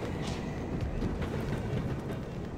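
Subway train in the Wrestling Empire video game rushing past, a dense, steady rumble with clattering rail noise filling the whole span, loud and continuous with no talk over it.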